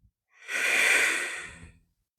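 A single long, breathy exhale during a warrior two yoga pose, close and clear, rising and fading over about a second and a half with no talk.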